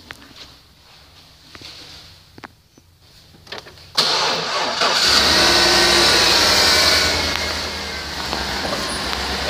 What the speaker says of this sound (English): We'll start it up quick, put it in gear.